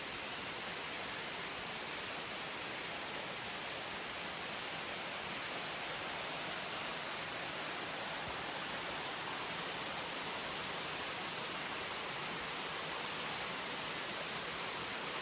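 Steady broadband rush of a waterfall on the Collins Gulf Loop in South Cumberland State Park, a constant even roar with no breaks and no voices.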